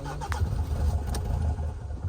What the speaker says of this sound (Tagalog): kapag ini-start natin ay parang gusto niyang umandar pero hindi niya kayang tumuloy